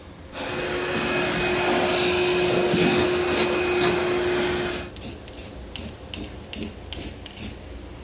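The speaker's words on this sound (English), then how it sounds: "I'm going to use a vacuum as well to get rid of all the shavings" A loud vacuum cleaner sucking up metal shavings from drilling during a trailer hitch installation drones steadily for about five seconds, then shuts off, leaving a few short clattering bursts.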